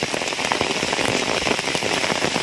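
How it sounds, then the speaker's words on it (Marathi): Steady, dense rain pattering on a surface in Guhagar, on the Konkan coast, a continuous wash of drops with no pauses and no voices. "आज चांगलीच पावसाने हजेरी लावली"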